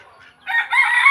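A rooster crows loudly and close by, a sustained harmonic call of about a second, preceded by a softer cluck-like chicken sound.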